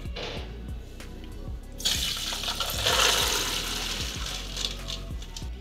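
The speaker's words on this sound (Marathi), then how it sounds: "आता याचं आपण पाणी निथळून घेऊ।" Water draining and splashing as soaked maize kernels are rinsed in a kitchen, a rush of pouring that grows louder halfway through over rhythmic background clatter, no talk.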